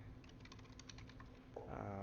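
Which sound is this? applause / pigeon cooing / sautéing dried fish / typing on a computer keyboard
typing on a computer keyboard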